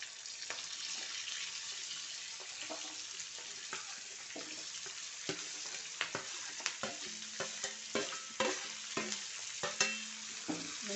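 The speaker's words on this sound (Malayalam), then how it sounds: "നന്നായിട്ടൊന്ന് വഴറ്റിയെടുക്കുക. ഞാനിവിടെ ഇരുമ്പ് ചീഞ്ചട്ടി ആയതുകൊണ്ടാണ് കളറ് ഇങ്ങനെ." Chopped onions and green chillies sauté in an iron pan, a steady close sizzle broken by repeated scraping clicks of a spoon stirring against the metal, growing busier toward the end.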